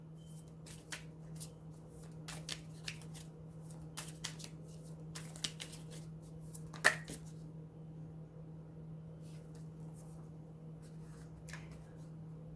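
Tarot cards being shuffled for a reading, a quiet run of soft riffling flicks and taps at close range, with one sharper snap midway and no talk over it.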